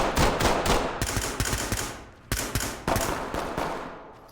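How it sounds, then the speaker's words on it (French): Gunfire in the tactical shooter Ready or Not, with loud, rapid automatic bursts repeating in close succession and brief gaps between volleys. "Mais pourquoi ça tire autant là?"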